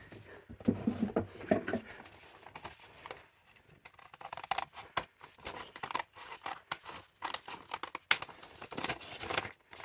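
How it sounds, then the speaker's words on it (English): Scissors slicing through a bag along a marked line for a junk journal: repeated close, crisp snipping and rustling of the material, soft and steady, in an otherwise quiet room. "I'm actually just going to cut the bag where that line is."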